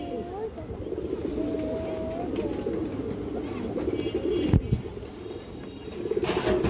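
Senior-feathered pigeons of a proven bloodline coo in low, repeated throaty calls at moderate level, with a person's voice and handling noises nearby.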